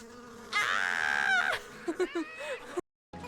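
Buzzing bee sound effect, a loud sustained drone with wavering pitch followed by shorter chirpy bursts, then a brief silence before the sound resumes.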